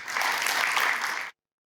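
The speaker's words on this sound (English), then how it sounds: "So a big welcoming round of applause, please, for Sarah Armstrong-Smith." Conference audience applauds to welcome keynote speaker Sarah Armstrong-Smith, a loud, dense burst of clapping that stops abruptly.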